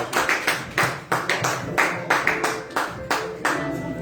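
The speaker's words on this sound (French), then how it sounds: "Acclamez pour elle" A small crowd at a diploma-giving ceremony claps for a graduate, uneven hand claps coming in quick irregular bursts, close and moderately loud, with no cheering voices standing out.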